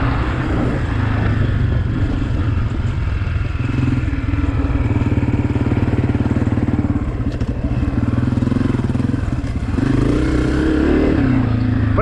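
A 2023 Honda CRF250F dirt bike runs in first gear, its engine buzzing steadily and close with small rises in revs, a constant throaty drone with no voices over it.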